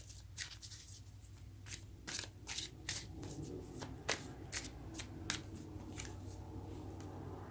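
Tarot cards being shuffled by hand, a quick series of crisp riffling flutters and soft slaps, close and fairly quiet, with no talk over them.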